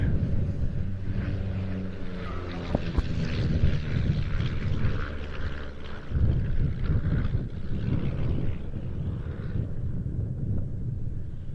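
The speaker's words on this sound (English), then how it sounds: "Now the two aircraft heading straight in towards us on what we call the B axis." Two de Havilland Chipmunk aircraft fly straight in towards the crowd at a Duxford flying display, their propeller engines droning in a steady, loud, continuous roar that rises and falls slightly.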